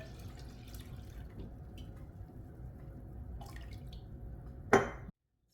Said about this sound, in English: now I'm actually going to pour it in here